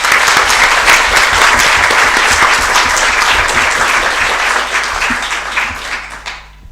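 Loud, sustained applause from a conference audience for a group of young women, a dense crowd of hands clapping steadily before gradually thinning and fading out.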